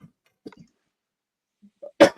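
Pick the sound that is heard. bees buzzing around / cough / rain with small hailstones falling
cough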